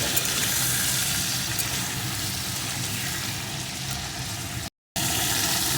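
Large crabs seasoned with turmeric and salt fry in hot oil, a loud, close, continuous sizzle and crackle that runs steadily with a brief dropout near the end.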